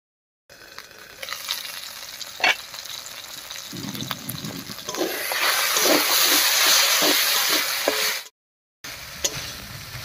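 Potatoes cooked down with spices sizzle and crackle in a pan, with steady frying hiss, scattered pops and a few stirring scrapes, rising louder midway before a brief silence and a short return.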